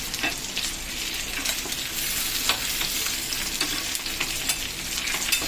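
Chicken for mandi biryani fries on a hot tawa with a dense, steady crackling sizzle and occasional stirring scrapes, close up and with no talking.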